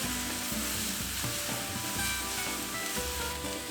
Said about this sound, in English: Next, add in the celery and stir fry that for another minute.